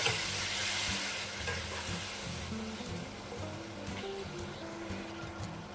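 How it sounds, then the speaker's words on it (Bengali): Pigeon meat and onions sauté in a hot pan, a continuous close sizzle with intermittent stirring scrapes and utensil knocks, no talking. "এবার আমি পেঁয়াজ দিয়ে আর মাংস দিয়ে একসঙ্গে অল্প সময় কষে নেব"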